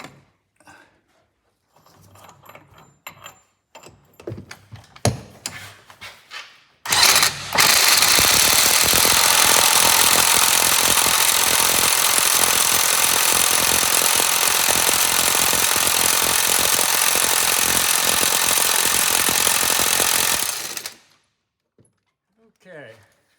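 An impact wrench works on the pinion nut of a 1973 Corvette C3 convertible, a long, loud continuous hammering burst lasting about fourteen seconds, framed by quieter tool clinks and handling noises.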